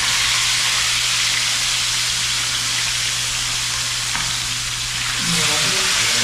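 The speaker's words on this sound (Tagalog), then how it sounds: "Mainit na po yung mantika at lagay na natin itong tilapia." Steady, dense sizzling of tilapia frying in hot oil, loud and close, with a brief crackle near the end.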